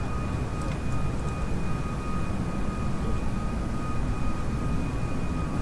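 A Boeing 737 MAX in a P3Dv5 flight simulator roars steadily on its takeoff run, a broad continuous rumble with two faint sustained tones riding on top.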